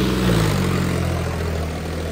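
A John Deere 5038D turbo tractor runs in second gear during a field trial, its diesel engine a steady, loud low drone with a slight early swell, then holding even, with no talk over it.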